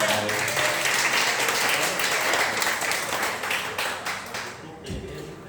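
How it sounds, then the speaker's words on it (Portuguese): A congregation at an evening church service claps for the Lord in dense, sustained applause that tapers into more rhythmic, separated claps near the end, with voices mixed in. "Aplauda o Senhor nesta noite."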